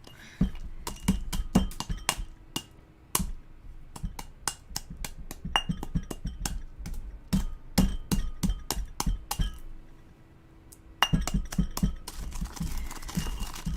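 Incense ingredients are ground by hand, likely with a mortar and pestle: rapid, irregular hard clinks and taps, close and fairly crisp, continue with a brief lull before resuming.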